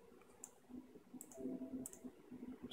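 Computer keyboard keys are tapped in a short burst of quiet, close clicks at an uneven rhythm, some quick pairs, against a faint hum in a quiet room.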